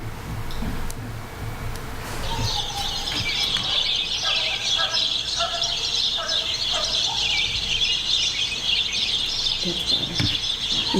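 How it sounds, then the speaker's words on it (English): Birds chirping and calling continuously at 4:51 in the morning, heard through a played-back recording, a dense layer of overlapping calls over a steady background hiss with no clear talking. "You can hear birds."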